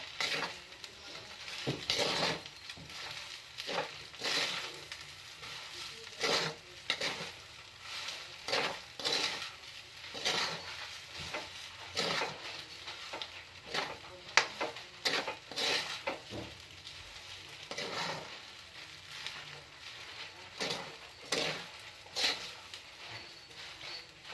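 A spatula scrapes and stirs fried rice in a pan, with repeated rhythmic scraping strokes and a faint sizzle underneath, close and moderately quiet, no talking.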